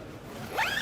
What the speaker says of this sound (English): As you can see, we protected the zippers not to stuck. This goes fast.